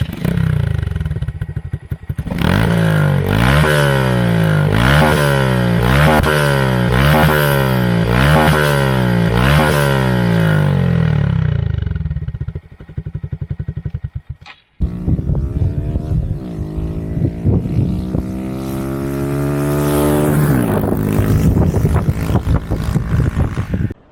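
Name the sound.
motorcycle engine revving with racing exhaust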